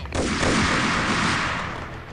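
Enemies fire on the player in the video game Max Payne, producing a dense, continuous roar of gunfire that stays loud for about two seconds before easing slightly, with the individual shots blurred together.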